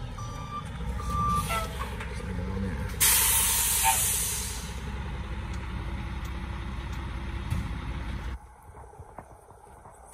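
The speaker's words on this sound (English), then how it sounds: "Here comes the truck." A dump truck reverses with steady, repeating backup beeps while its engine rumbles and air brakes hiss, delivering a load of dirt; the engine noise drops off abruptly near the end.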